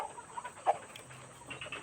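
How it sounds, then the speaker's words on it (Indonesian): A three-month-old kampung chicken gives a few soft, scattered clucks, one slightly louder in the middle, over a quiet background hum with no talking. "ayam Mardinya coba kita pegang ya."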